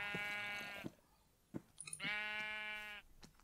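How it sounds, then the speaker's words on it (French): Two long, harmonic sheep bleats from Minecraft, close and clear, separated by a short gap with faint soft clicks, no talking. "Ah, c'est le mouton, l'autre que j'entendais."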